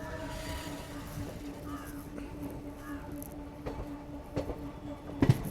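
A passenger train rolls slowly into Saharsa Junction railway station with a steady low rumble and faint rail clatter, crows cawing in the distance and a couple of sharper knocks near the end.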